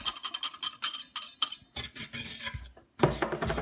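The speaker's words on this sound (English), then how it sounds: "I've got my cinnamon and my cornstarch mixed together, and I'm going to add that to my sugar and mix that" Cinnamon and cornstarch being mixed into sugar in a saucepan, rapid rhythmic scraping and clinking of a utensil against the pan, close and brisk, with a short pause before stirring resumes.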